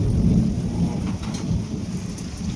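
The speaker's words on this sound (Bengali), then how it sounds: "দারুণ সুন্দর বৃষ্টি হচ্ছে, দারুণ সুন্দর।" Heavy rain pounding on a shed roof, a dense, loud, continuous roar with deep rumbling underneath, no voices.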